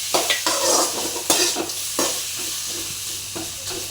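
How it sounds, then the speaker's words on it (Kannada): Whole spices and aromatics tempering in hot oil in a pan, with tomato tossed in and stirred; a steady close sizzle runs throughout, broken by several sharp spatula scrapes and bursts of louder frying. "ಒಗ್ಗರಣೆ ಫ್ರೈ ಆಂಡ್ರೆ ಟೊಮೆಟೊ ಪಾಡ್ದೆ"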